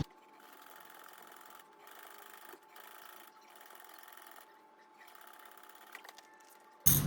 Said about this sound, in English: We're going to stitch down this edge at 3/8 of an inch.